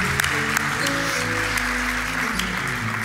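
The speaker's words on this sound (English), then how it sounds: "And give her a round of applause." A church congregation applauding a guest during a Sunday service, a full, continuous clapping that stays even throughout, with a low steady hum from the room underneath.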